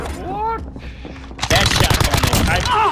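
Rapid gunfire bursts from the video game Call of Duty: Modern Warfare, loud and dense in the second half after quieter game sounds, with a player's voice talking over the action.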